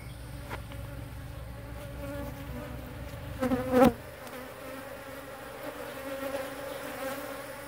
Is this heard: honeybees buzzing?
yes